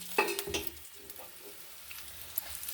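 A quick clatter as pre-fried vegetables drop into a hot pan, then a quiet, continuous sizzle with a faint scrape or two.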